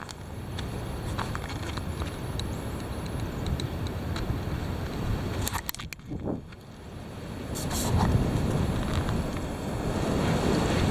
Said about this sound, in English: Here it is. The heavy wind.